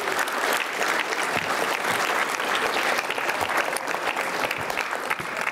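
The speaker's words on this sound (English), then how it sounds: "One more big round of applause" A hotel banquet audience at the China General Chamber of Commerce USA 2016 annual gala applauds a former three-term mayor, a loud, dense, steady round of clapping for several seconds.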